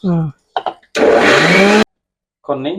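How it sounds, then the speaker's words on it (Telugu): A kitchen mixer grinder whirs loudly for just under a second while grinding tamarind and fenugreek leaf chutney, a harsh steady electric whine that cuts off abruptly, with someone talking before and after. "మళ్ళీ 2 రుబ్బులు రుబ్బితే అయిపోతుంది"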